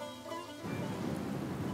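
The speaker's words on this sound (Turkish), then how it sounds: "aslında yağmur yağıyor" Steady rain with a low thunder rumble, filling the background evenly and growing louder after a brief quieter opening.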